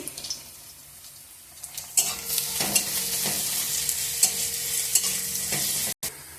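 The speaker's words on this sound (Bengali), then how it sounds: "পেঁয়াজটা লাল করে ভেজে নেবো রসুন দিয়ে দিচ্ছি" Onion and garlic fry in a pan with a loud, hissing sizzle that swells up after a quiet start, and intermittent scraping strokes of a spatula stirring through it.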